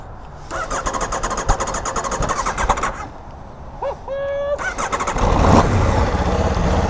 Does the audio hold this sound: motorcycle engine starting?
yes